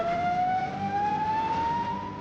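A cartoon ambulance siren sounds as a single rising wail, loud and close, over a low rumbling background, with no talking.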